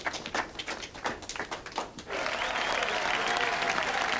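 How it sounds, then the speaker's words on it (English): Applause for police officers at an award ceremony, opening with a few separate loud claps before swelling into sustained, dense clapping from a crowd for the rest of the clip. "To see these guys being applauded for being such douchebags in the line of duty"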